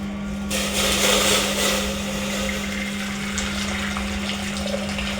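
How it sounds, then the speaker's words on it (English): Water pours steadily into a sufuria pot while porridge (uji) is being prepared, a continuous rushing splash with a low steady hum underneath and no talking. "So first, put water in a sufuria."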